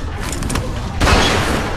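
A gun firing in The Walking Dead 400 Days, one loud close blast after a second of muffled ambience, ringing out briefly.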